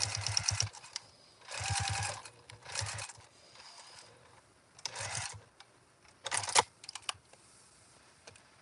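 A sewing machine stitches fabric for a microwaveable bowl cozy in several short, close bursts of fast rattling whir, separated by brief pauses.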